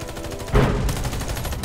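Standard M4A1 rifle firing in the game Warface, a loud burst of rapid automatic shots in a fast regular rhythm, with a heavier report partway through and continuous fire to the end.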